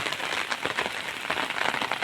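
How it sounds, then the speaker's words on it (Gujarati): Heavy monsoon rain, several days long, pours onto an open farm field, a dense continuous patter close by with no voices over it. "વરસાદ પણ હજી ચાલુ છે સખત ત્રણ ચાર દિવસ જેવો વરસાદ પડે છે"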